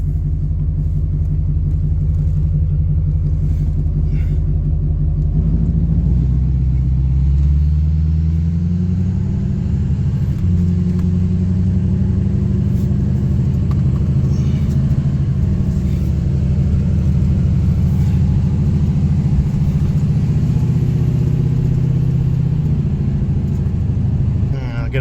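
A Duramax diesel pickup stuck in limp mode rumbles loud and close while driving, its deep engine drone shifting pitch partway through as it pulls, then holding a steady heavy hum.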